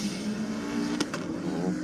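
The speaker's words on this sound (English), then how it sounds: "Big smoky burnout from the Falcon down there in the Aeroflow lane." A Ford Falcon doing a big smoky burnout in its lane at Sydney Dragway, its engine a steady loud roar with a sharp squeal-like burst near the middle, heard from a distance at the track.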